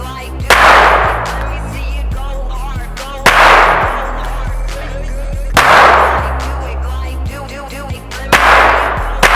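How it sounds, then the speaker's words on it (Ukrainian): A SAFARI 820G traumatic revolver is test-fired at close range: four sharp, loud shots spaced a few seconds apart, each followed by a brief ringing decay, with no talk. "Ну що ж, протестуємо сафарік стрільбою."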